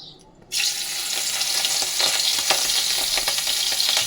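Prawns for a prawn kosha hit a hot pan after a brief quiet moment, bursting into a loud, dense sizzle that holds steady with crackling spits, close by and without speech.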